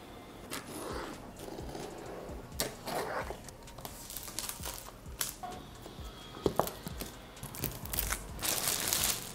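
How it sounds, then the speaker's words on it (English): A blade slices and crinkles through the plastic seal on the box of a 70mai Omni X200 dash cam, close up, with scattered crunches and tearing. "now let's cut open the seal of this box"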